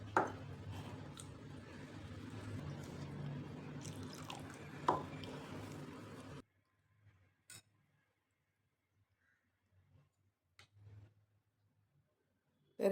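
Water pours into a bowl of wheat flour to make a slurry, a faint continuous trickle lasting several seconds, then quiet with a few soft drips and clinks.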